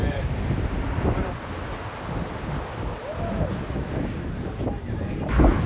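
Steady wind rushes over the microphone aboard a sailboat crossing the Pacific in the trade winds, a broad, constant roar with water noise beneath and brief voices in the background.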